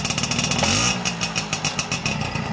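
A restored 1960 Herkules 50 cc moped kick-starts on the first kick in a workshop. The engine catches with a loud burst and then settles into a fast, uneven two-stroke putter close by, with no talk over it.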